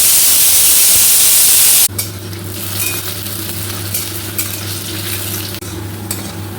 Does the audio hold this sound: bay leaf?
yes